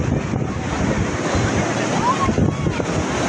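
Foaming sea waves break on the shore about fifty feet from the Ganpatipule temple on the Konkan coast, a continuous rough wash mixed with wind buffeting close to the microphone and a busy crowd around.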